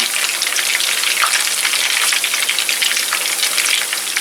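Köfte meatballs fry in a hot non-stick pan, giving a loud, steady, close-up sizzle with a dense crackle that runs unbroken throughout, with no voices.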